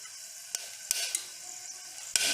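Whole spices including cardamom, cashews and bay leaves fry in oil in a pan, giving a steady close hiss with a few sharp clicks and crackles.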